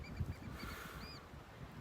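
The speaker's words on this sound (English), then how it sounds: "Sounds like the birds are waking up to meet the sun." Several birds call and honk at dawn, a few distinct cries rising over a steady background hush, fairly distant.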